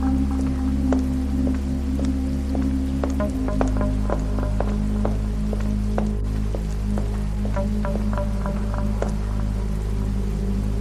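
Steady rain falls through a dark night, with individual drops pattering close by over a continuous hiss and a low droning hum beneath, no voices present.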